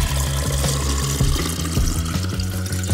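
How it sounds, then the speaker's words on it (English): Cold filtered water pours steadily into a brewing vessel for homemade kombucha, a loud, close, continuous splashing flow with no talk over it. "take your brewing vessel and add 8 cups of cold filtered water to it"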